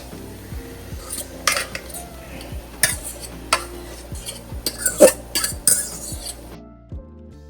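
Saltfish going into a pot of hot oil amid the clatter of a metal utensil against the pot, scattered clinks and scrapes over a faint sizzle, ending abruptly in silence, no talk.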